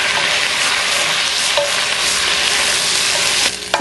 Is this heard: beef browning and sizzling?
yes